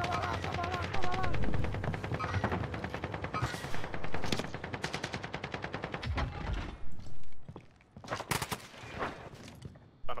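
Rapid bursts of Call of Duty gunfire crackle almost continuously, with automatic fire and scattered shots loud and close, some voices talking underneath.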